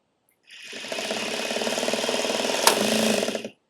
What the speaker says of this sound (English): Once the spool of thread gets enough thread on it, the machine should automatically pop this off.